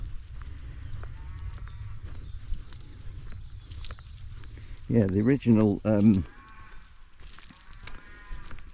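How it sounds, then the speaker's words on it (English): Cattle on a fen walk at Redgrave and Lopham Fen in Suffolk give a loud, close run of moos lasting about a second, set over steady outdoor ambience with birdsong. A person speaks briefly. "I can just hear some cattle."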